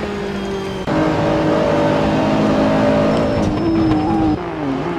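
A race car engine in the Assetto Corsa racing game at Mugello screams loud and close, its pitch climbing through revs, dropping sharply at gear shifts and easing off near the end.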